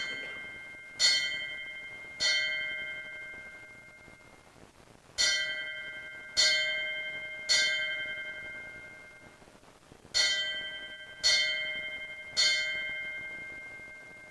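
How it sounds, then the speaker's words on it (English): Ceremonial bell tolled at a fire academy graduation: three groups of three clear metallic strikes, each ringing out and slowly decaying before the next, loud and prominent with no talk. "The bell will now toll to signify that Class 24-02 is in service and ready to respond."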